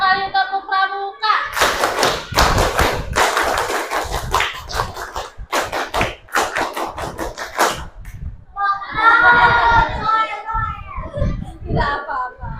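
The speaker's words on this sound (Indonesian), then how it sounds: "2 kali tepuk Pramuka." A classroom of children does the Scout clap (tepuk Pramuka) twice, crisp patterned bursts of hand clapping mixed with a teacher's voice and children's chatter.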